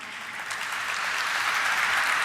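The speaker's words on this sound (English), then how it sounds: "Let's begin this morning with a huge round of applause, everyone." At a morning listing ceremony for a pharmaceuticals company, an audience claps steadily in a sustained, even round of applause with no voices over it.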